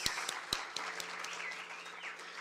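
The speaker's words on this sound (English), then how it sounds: "can we please clap hands for the three contestants" An audience at a university teaching and learning festival applauds three contestants, a dense, fairly even patter of many hands clapping from a moderate distance, with a few sharper claps standing out near the start.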